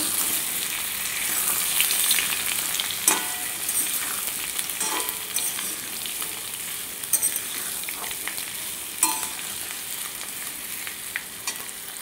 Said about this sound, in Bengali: এখানে আমি কচুগুলোকে ঢেলে দিলাম, দিয়ে একটু নাড়াচাড়া করে নেব।